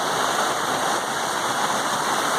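Waterfall at Pesqueiro Triângulo in São Lourenço, SP, cold water pouring steadily with a dense, broad rushing roar, close and continuous with no talk.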